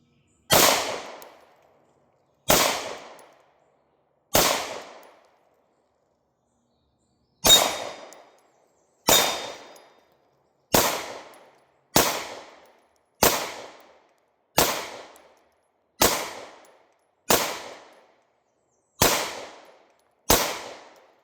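A Hi-Point C9 pistol firing at a steel target outdoors: about thirteen loud, sharp single shots with ringing decays, spaced roughly one to two seconds apart, with one longer pause early on and no talking.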